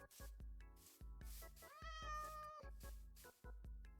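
A cat gives one clear, drawn-out meow in the middle, set against soft intermittent tapping sounds nearby, with no talking.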